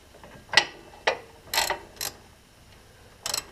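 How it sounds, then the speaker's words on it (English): Ratchet with a 17mm socket working hub bolts on a 2006 Nissan Xterra 2WD, several short, sharp clicking bursts in an irregular rhythm, close and moderately loud with quiet gaps between. "It's a 17mm socket."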